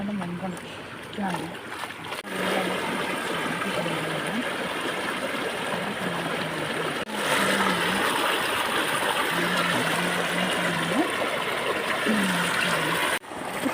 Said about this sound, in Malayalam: അപ്പം വെള്ളം പോകുന്ന സൗണ്ടാണ് ഇപ്പോൾ കേൾക്കുന്നത്